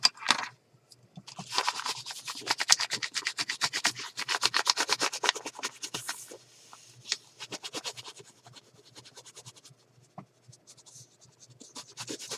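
A bone folder is drawn in repeated quick strokes across paper being assembled into a 2025 planner, giving dense rhythmic scratchy rubbing that fades off toward the end.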